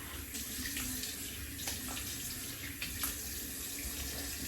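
Water pouring steadily from a running tap as something is rinsed beneath it, a constant close hiss and splash with faint knocks against the sink.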